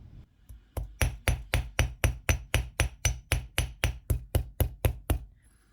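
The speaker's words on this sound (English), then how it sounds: "So I'm going to use my ball peen hammer to texture it." Steady ball peen hammer blows texturing thick copper wire for a forged heart pendant, about eighteen sharp metallic strikes in an even rhythm, close and loud with no talking.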